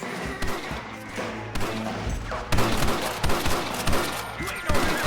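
A shootout in the video game Red Dead Redemption Remastered brings repeated loud gunshots and rapid volleys that grow more intense over the second half, with shouted character voices mixed in.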